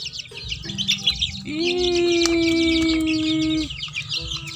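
Chicks cluck and chirp close by, with one drawn-out call standing out in the middle and lighter peeping around it.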